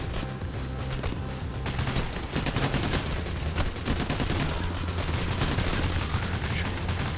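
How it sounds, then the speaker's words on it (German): Gunfire rattles in the heist game Payday: The Heist, rapid cracking shots and bursts repeating densely and fairly loud for the whole stretch. "Wo kommen denn die Schüsse her, ey?"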